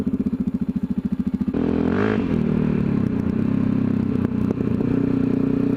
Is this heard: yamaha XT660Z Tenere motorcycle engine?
yes